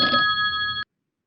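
A telephone bell rings in a single sharp, loud burst of just under a second, then cuts off abruptly into silence.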